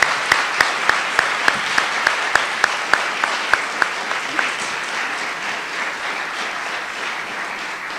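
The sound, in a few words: applause for the debaters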